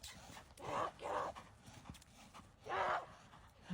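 Horse hooves clip-clop in a few separate, uneven thuds, fairly soft and close, with brief gaps between steps.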